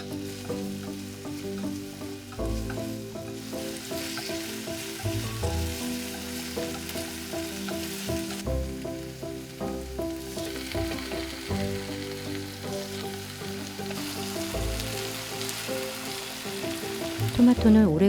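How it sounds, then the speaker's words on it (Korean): Onions sizzle in olive oil in a pan for a one-pan tomato egg pizza, a steady faint frying hiss that runs throughout beneath music, with no talk. "양파 향이 날 때까지 볶는다."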